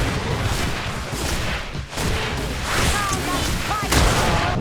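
Grenade explosions and battle noise in the video game GreedFall, a dense rumbling crash with several heavy thuds swelling over a few seconds, voices faintly mixed in the din.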